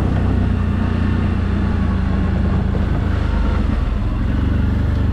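A CFMoto CForce 800XC ATV ridden in four-wheel drive through a tight wooded section, its engine giving a loud, steady, close-up drone and rumble with no pauses or talk.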